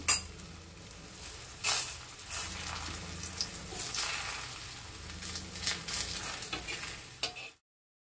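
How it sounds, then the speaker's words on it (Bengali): Rolled dough pieces fry in hot oil on a tawa, making a steady crackling sizzle with occasional clinks and scrapes of a utensil against the pan, close and continuous for about seven seconds before cutting to silence. "তাওয়াতে আমি তেল দিয়ে দিয়েছি, তেলটা গরম হয়ে গেছে। এখন আমি এটা দিয়ে দিলাম।"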